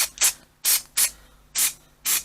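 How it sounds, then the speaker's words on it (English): Six short aerosol spray bursts onto the outer fabric and handles of a carry cot, quick hissing puffs in an uneven rhythm, close by. "Just give it a spray."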